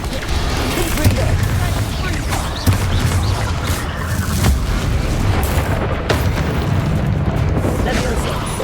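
Repeated Confringo spell blasts from the Hogwarts Legacy video game, a steady run of booming bursts and pops layered over continuous game music and ambience, loud and close throughout with several sharper hits.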